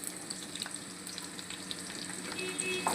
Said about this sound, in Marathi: कांदा चांगला असा परतवून घ्यायचा तेलावरती.